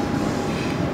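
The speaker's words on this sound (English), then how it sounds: "the train's passing by because of that beautiful train bridge I told you about" A train rumbles past on a railway bridge, heard from a living room nearby as a steady broadband roar with no distinct clacks, continuous and fairly loud throughout.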